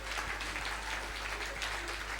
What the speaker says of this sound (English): Let's give a clap offering unto God.